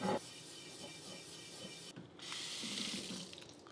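A wet cast iron Dutch oven being scrubbed with Barkeeper's Friend gives a steady, close, gritty rasp with faint water noise, growing louder and brighter in the second half, with no talking.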